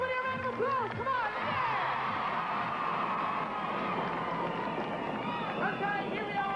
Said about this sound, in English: Give everybody a round of applause, come on,